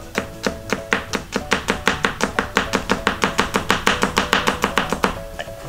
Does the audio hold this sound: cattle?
no